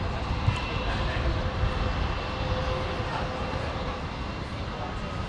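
A China Airlines jet lining up on runway 19 right at Brisbane airport hums with a moderate, steady engine rumble from some distance, with faint talk and radio chatter mixed beneath it.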